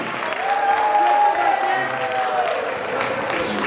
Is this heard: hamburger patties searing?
no